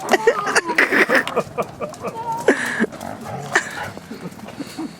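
A dog barks and whimpers in a busy indoor scene, with yips and whines overlapping and clattering noise throughout.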